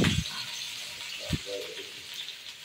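Local village garlic frying in an iron kadhai gives a steady, close sizzling hiss, broken by a couple of soft low knocks from the pan.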